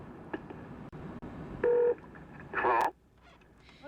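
Push-button telephone dialing tones from a wireless radio-wave phone in an advertisement, two short clear beeps separated by quiet clicks and faint background noise.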